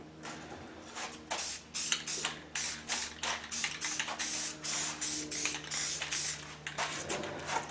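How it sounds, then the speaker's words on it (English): An aerosol spray paint can hisses in a quick run of short bursts, a dozen or so spaced about half a second apart, close and fairly loud with no talking, while restoring a cannon. "And a spray can just makes this fast."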